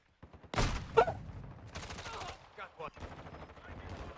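Gunfire from a video game shooter, a loud opening burst followed by scattered quieter shots and game noise, with a voice briefly audible.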